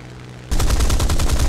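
Aircraft machine guns in War Thunder open up abruptly after a quiet engine drone, a dense, loud stream of rapid shots.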